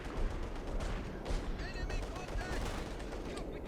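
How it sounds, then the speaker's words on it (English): A Company of Heroes 2 battle carries repeated gunfire and heavy artillery impacts, with dense rapid cracks and booms forming a steady barrage at moderate distance, alongside some faint chirping effects. "And now there's going to be a barrage being called in."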